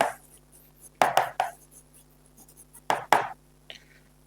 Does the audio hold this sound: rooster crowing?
no